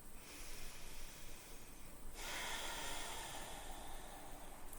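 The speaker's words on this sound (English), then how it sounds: "take one more deep breath" A single slow, deep breath at a calm guided meditation, a soft airy inhale that swells partway through and then continues as a steady exhale, quiet and close with no talking.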